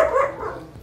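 Dogs bark in a short burst close by in a small home garden and studio space, the yelps fading quickly over a fraction of a second.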